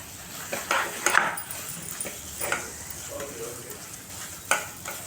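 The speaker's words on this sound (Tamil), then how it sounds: "எல்லா பக்கமும் நல்லா கலந்து விட்டுருங்க" Prasadam with ghee cooks in a pot, a low sizzle under soft scrapes and clinks of a spoon stirring it, with a few brief louder knocks and faint background sounds.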